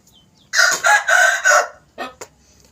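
A young rooster gives one loud, close crow in several surging bursts, then two short clucks, with no talking.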